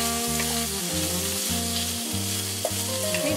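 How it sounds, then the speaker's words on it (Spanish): Chopped onion and bacon fry in a pan for carbonara, a loud close sizzle with a few stirring scrapes and soft clanks, steady throughout with a faint tonal hum beneath. "hay que mezclarlo bien para que la cebolla no se queme y el tocino empiece a cocinarse"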